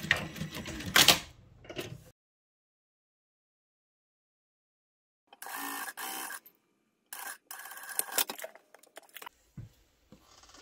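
Sewing machine stitching a zipper into a folded 1 cm neckline seam allowance on a Squid Game guard costume, heard as a short burst of stitching, then a pause and several more clipped runs of mechanical clatter close to the microphone.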